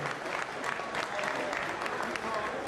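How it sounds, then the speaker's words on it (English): An audience at a boxing press conference claps in a moderate, steady patter that lasts the whole moment, mixed with faint crowd murmur. "Round of applause for B-Dave, people."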